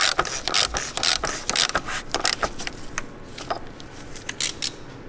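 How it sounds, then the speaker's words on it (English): Ratchet wrench with a 36 mm socket tightening the oil level sensor on a BMW E46, a run of quick metallic clicking bursts close up, with quieter pauses between strokes. "Tighten it down with your 36 millimeter socket."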